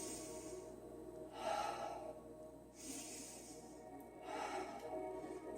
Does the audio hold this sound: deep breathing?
yes